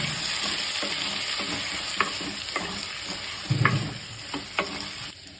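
Brinjal fries in a pan with onion, garlic and dried red chillies, a soft steady sizzle broken by occasional spoon scrapes and stirring knocks, fairly quiet and close.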